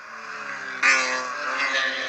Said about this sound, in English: The E46 cars now up the hill.